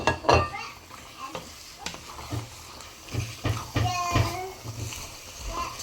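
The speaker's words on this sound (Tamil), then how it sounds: "சிக்கனை போட்டுட்டு நல்லா கிண்டி விடுவோம்" Chicken pieces, about one and a half kilograms, stirred into masala in a pot for chicken biryani, giving repeated scraping, stirring strokes with light sizzle and wet splatter, close and moderately loud, with some faint voices in the background.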